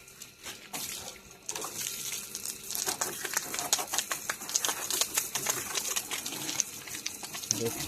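Water released from a pipe at a work site runs and splashes steadily, with a bright hissing flow and irregular spattering throughout, fairly close.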